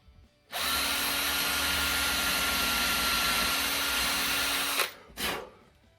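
A power drill bores a 2mm pilot hole for a screw in a guitar body, whirring loudly and steadily up close for about four seconds, then stops, followed by a short second burst.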